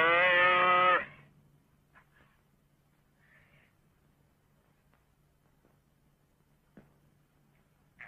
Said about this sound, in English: Sounds like a calf blowing.